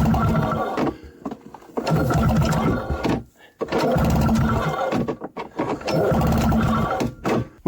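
A 1994 Yamaha VX500 VMAX snowmobile engine cranks without starter fluid, a loud repeated churning roar in bursts with short pauses between attempts.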